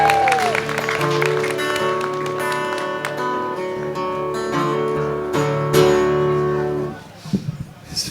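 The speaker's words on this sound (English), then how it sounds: "So, a round of applause for everyone." Clapping from a crowd at an anniversary celebration, rising under music with a sustained tonal backdrop, continuing for several seconds before dropping off into a few scattered claps.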